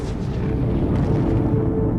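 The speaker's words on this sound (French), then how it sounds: "une tête nucléaire de 1500 tonnes explose à 400 km au-dessus de l'océan Pacifique" A 1962 high-altitude nuclear warhead explosion 400 km above the Pacific Ocean, heard as a loud, sustained low rumbling roar with a dense, continuous boom and no voices.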